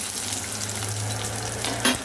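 Continuous hiss and crackle of small sambar onions frying in hot oil for mixed vegetable sambar, close and steady, with a brief stir or clatter near the end.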